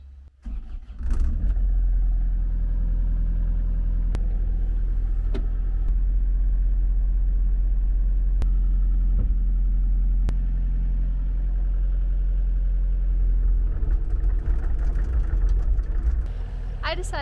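An excavator engine running close by while a shipping container is moved, a deep steady rumbling drone with intermittent metallic clanks; a voice talks over it at times.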